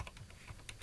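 Quick, light taps on a computer keyboard, several keystrokes in a brisk uneven rhythm, close and quiet with no talk.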